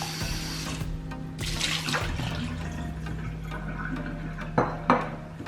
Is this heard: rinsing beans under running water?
yes